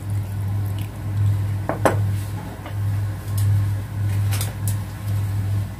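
Raw beef being rinsed with boiled water in a home kitchen, with soft squishing, dripping and the occasional clink of a bowl over a steady low hum, all continuous.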